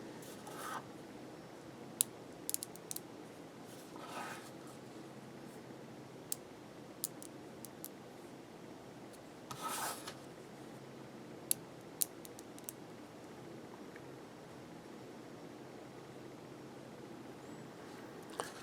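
Small Zen Magnets balls click down one after another onto a cuboctahedron magnet frame, giving sparse, sharp, quiet ticks and snaps with short scraping rubs between them against a faint steady hiss.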